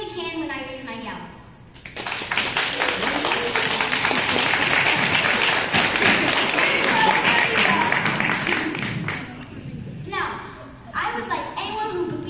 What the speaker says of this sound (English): I would like you to applaud as loudly as you can when I raise my gavel.